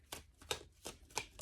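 Tarot cards being shuffled by hand, four quick crisp riffling bursts in a steady rhythm, close and quiet with no talking.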